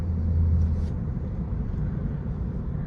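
Tesla car driving on a road under Full Self-Driving on a hot summer day, heard from inside as a steady low rumble of road and tire noise with no talking.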